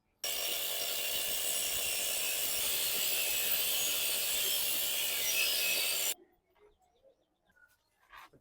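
A metal plate for a chain guard is cut with a loud, continuous grinding rasp that holds steady for about six seconds, then stops abruptly, leaving faint scattered clinks and workshop noise.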